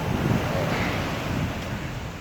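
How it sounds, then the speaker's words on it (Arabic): Sea waves crash against rocks and concrete breakwater barriers on the Alexandria shore, a dense continuous roar of surf close by, mixed with wind rushing over the microphone and no voices. "بتاع الموج وتراطم الامواج والتطام الامواج بالصخور اللي معموله للحواجز والحواجز الاسمنتيه"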